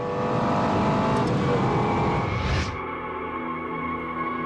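A Lexus LFA sports car engine screams at high revs, loud and close, then the pitch drops sharply as the throttle lifts and it settles into a lower steady drone.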